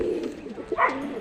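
Racing pigeons back in their loft after a fun race give soft, low cooing calls, one fuller coo swelling near the end, close and fairly quiet over faint room noise.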